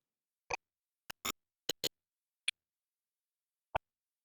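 A short sampled sound with a delay effect applied in Bitwig's Grid plays as a handful of sharp, dry clicks spaced irregularly, some in quick doubled pairs, alone with no voice.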